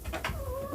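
Laying hens and a rooster cluck in short, close bursts, with a soft tonal call from one bird underneath. The clip is brief, quiet and has no talk.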